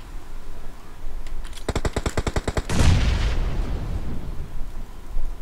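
In PUBG Mobile, a rapid burst of about ten sharp gunshots, then a heavy booming grenade blast that rumbles and fades into low background noise.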